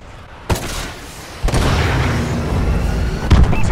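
Missile strikes in a video game land as heavy booming explosions, two sharp impacts followed by a sustained rumbling roar and a final louder blast, loud and close.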